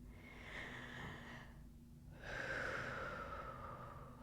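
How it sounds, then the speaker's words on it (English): A slow, deep inhalation followed by a longer, louder exhalation, close and breathy with no talking, taken as a calming breath during a relationship communication talk. "Literally, take a deep breath."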